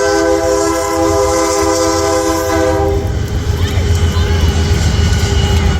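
A passing train sounds its horn, a loud multi-tone blast holding for about three seconds, then fades into the rumble and clatter of rail cars rolling by in a small town, with heavy rail traffic.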